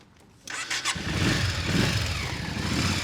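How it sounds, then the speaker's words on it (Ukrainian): A carbureted motorcycle engine cranks and catches around the half-second mark, then runs with a loud, steady, rumbling idle close by. "ви можете навіть завести мотоцикла"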